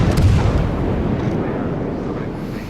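Naval artillery from a battleship duel in World of Warships, a loud continuous roar of heavy gunfire and rumbling blasts, with a strong burst near the start fading into sustained booming.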